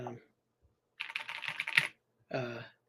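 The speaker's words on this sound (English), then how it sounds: "Got my clicky keyboard" Rapid clicky keys on a computer keyboard rattle out in a short burst of close, crisp taps, with brief speech just before and after.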